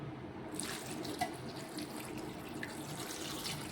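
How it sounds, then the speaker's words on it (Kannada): Water poured into a cooking pot for sambar, a steady close splashing stream without speech. "ಇವಾಗ ಇದಕ್ಕೆ ನೀರು ಸೇರ್ಸಮ್ರಿ"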